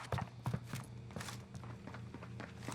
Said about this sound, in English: I hear the footsteps, being patient